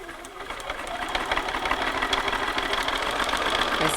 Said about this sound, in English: now we're going to start to sew all of this seam